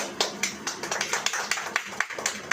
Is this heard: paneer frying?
no